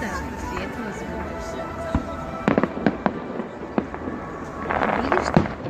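Fireworks in a salute display go off as a string of sharp, loud bangs and crackles, sparse at first and then bunching into a denser burst near the end, over steady background noise and distant chatter.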